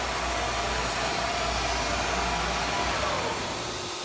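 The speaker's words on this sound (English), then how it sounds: "So essentially what it is a giant router with a circular bit on the bottom here, and it just rotates, and that cuts through the material" The spindle of a CNC router fitted with a circular bit spins in a continuous loud, whining whir, steady and close throughout with no voices.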